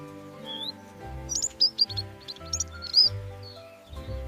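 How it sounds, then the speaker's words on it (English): A finch chirping in short, high bright notes over a soft musical backing, several quick calls scattered through the clip. "This is a finch."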